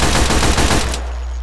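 SMG fire in the VR shooter H3VR: a fast, loud burst of automatic shots in a tight rhythm for about a second, then an abrupt stop leaving only a low hum.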